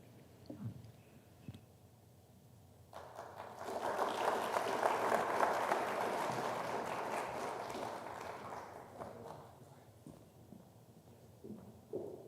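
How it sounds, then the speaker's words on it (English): Applause from an audience at an innovation competition, starting hesitantly, then swelling to a full round of clapping before fading back to scattered claps. "It took a couple seconds for the first clap"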